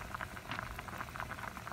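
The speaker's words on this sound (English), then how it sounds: "what I have here is a pre-boil pot of half a pot of water in like a medium pot" A medium pot half full of water simmers on a kitchen stove before congee is cooked, giving a quiet continuous bubbling and crackle, close up and on its own.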